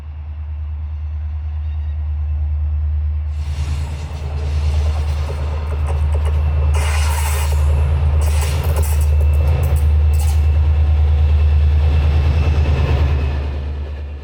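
Norwegian passenger train with five carriages arriving at a station for service to Bodø on an Arctic railway, a loud low diesel drone that swells as it nears, with intermittent high squeals and clatter building over the final seconds.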